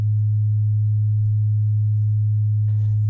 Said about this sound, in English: in one ear you're going to hear a pure tone that's going to sound something like this